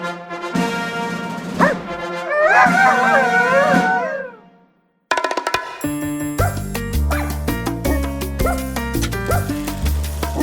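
Dogs bark, yip and whimper close by in a few loud bursts. After a short silence, music starts.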